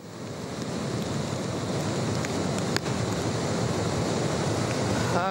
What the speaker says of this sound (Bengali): সাগর উত্থাল, বিশাল বিশাল ঢেউ আমরা দেখতে পাচ্ছি একেবারে সকাল থেকেই